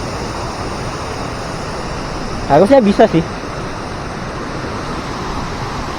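Two waterfalls roar steadily as a broad, constant rush of falling water, with a person briefly speaking over it midway.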